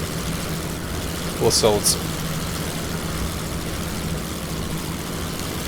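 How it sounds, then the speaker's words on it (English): Engines of a formation of four aircraft drone steadily and evenly in the World War I flight game Wings Over Flanders Fields, with a voice briefly talking over the hum. "A formation of 4 aircraft"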